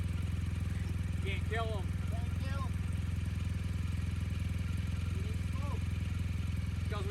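A motorcycle engine, dried out before cranking, idles steadily after starting, a constant droning hum heard close by under people talking.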